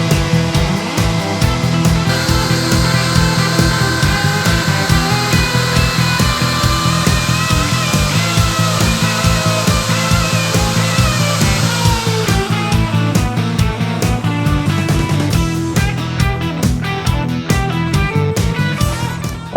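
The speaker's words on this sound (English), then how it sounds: "Next thing is going to be to set up the router table and route the corners." A router on a router table cuts the corners of a wooden Telecaster-style guitar body, a loud, sustained high-pitched whine and roar over steady motor hum, with bursts and changes in pitch as the bit bites into the wood.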